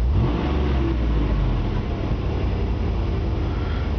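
A 1990 Ford Mustang LX with a 5.0 V8, Hooker competition headers and Flowmaster dual exhaust runs with a loud, deep, steady exhaust rumble close up, no talk.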